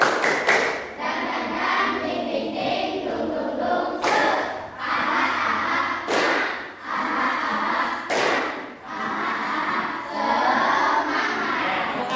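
A classroom of students performs a rhythmic spirit-clapping chant, with several sharp bursts of loud group claps standing out against steady chanting voices.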